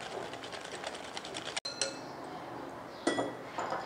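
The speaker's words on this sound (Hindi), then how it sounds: "अंडे शामिल कर दें, इनको मिक्स करते हैं अच्छी तरह।" Eggs beaten into creamy batter for chocolate cake rusk make a steady, close rattling whir of mixing with light clinks of utensil on bowl, short and with no talk.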